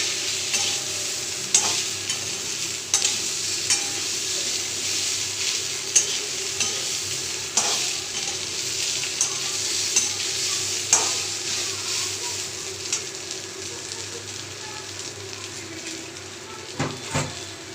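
Fish head pieces frying in a pan, a steady close sizzle with repeated scraping stirs and occasional clinks of the utensil against the pan throughout.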